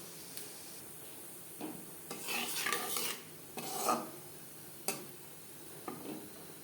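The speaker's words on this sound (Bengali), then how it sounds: "3 চামচ রিফাইন্ড অয়েল গরম করে নিয়েছি। ফোড়নে দিয়ে দিলাম গোটা জিরে।" Whole cumin seeds frying in hot refined oil, a soft hiss that swells into short bursts of crackling sizzle, with a few light clinks of a spoon against the pan.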